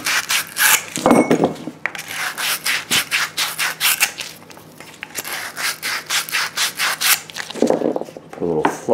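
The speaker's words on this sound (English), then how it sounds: "sand both ends." Pipe ends being sanded by hand during a bathroom plumbing renovation, heard as a long run of quick, steady back-and-forth rubbing strokes close up, with brief pauses and no talk.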